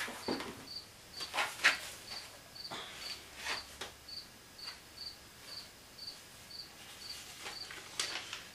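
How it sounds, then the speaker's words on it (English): Crickets chirp in a steady repeating rhythm, moderately close, with a few louder rustling bursts mixed in and faint background noise. "And we got the crickets getting it in with us."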